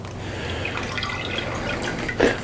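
Water drains and drips from a lifted turkey fryer basket, a close, continuous trickle and patter with a brief louder splash near the end.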